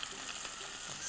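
Meatballs sizzling in hot oil while cooking for a Tunisian bean stew, a steady close crackling fry with faint stirring and no speech.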